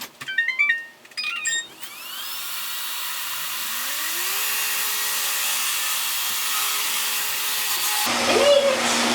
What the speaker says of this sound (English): Let's see how it does with the robot vacuum.